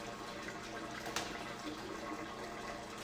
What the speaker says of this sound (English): When this water flows through this system, it passes through this pipe and falls back down into the bucket.